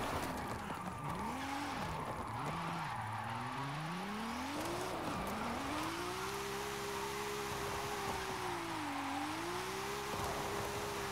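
A Nissan Silvia racing downhill in Forza Horizon 5, its engine note climbing and falling through gear changes with continuous tire squeal as it drifts, loud and steady throughout.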